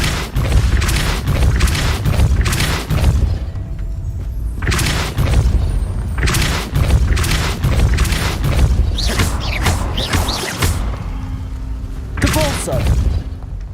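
Repeated Depulso force-push spells cast in the wizarding game Hogwarts Legacy, loud booming thumps and bursts recurring throughout amid dense game effects and a voice talking over them.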